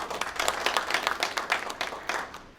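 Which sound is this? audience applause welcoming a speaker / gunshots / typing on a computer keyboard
audience applause welcoming a speaker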